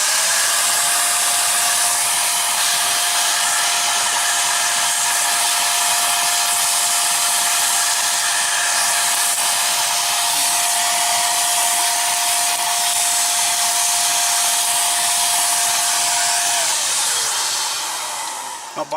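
JML Dust Daddy handheld vacuum cleaner running at raised suction, a steady loud whine with a constant high-pitched tone that holds for most of the stretch, then winds down near the end with no talk over it.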